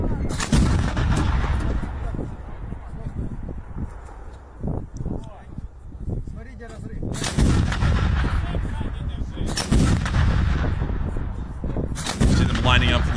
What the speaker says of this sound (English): we can now see the Bofors gun firing